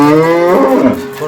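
A dairy cow on a farm lets out a single loud, close moo, a drawn-out, resonant low call lasting over a second with nothing else heard.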